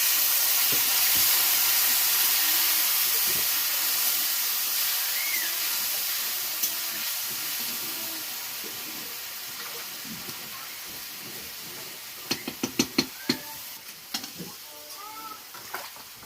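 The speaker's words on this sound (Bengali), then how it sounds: "মশলাটা পুড়ে যাচ্ছিল, অল্প জল দিয়েছি, সরষে বাটা দিলাম, দিয়ে ভালো করে কষিয়ে নেব।" Spice paste sizzles and hisses in a pan as a little water goes in, with mustard paste being added. A steady loud steam hiss slowly fades, and a few clinks and stirring knocks come near the end.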